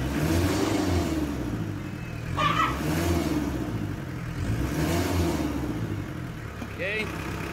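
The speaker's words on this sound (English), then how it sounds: "Going to tighten that down, then rev the engine" A Mitsubishi 4D56 diesel engine runs nearby after fuel injection pump adjustment, its rumble rising in a few revs over the idle, with short higher whirs in between.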